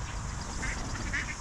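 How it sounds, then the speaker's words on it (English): Ducks quack faintly at a pond where people feed them, two brief calls rising over a dense wash of outdoor background noise. "I can see there's other people there feeding the ducks"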